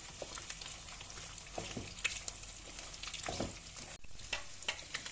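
Eggs seasoned with paprika frying in a pan, a steady sizzle with a spoon scraping and stirring through it in several soft strokes, close and fairly quiet, no voices.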